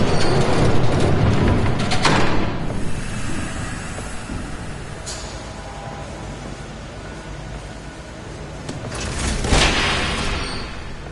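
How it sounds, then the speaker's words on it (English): In the Telltale Batman game, a train rumbles past loudly with rushing noise and rail clatter, fading in the middle before a brief screech and swell near the end, with no speech. "There's a train coming."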